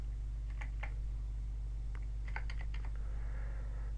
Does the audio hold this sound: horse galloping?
no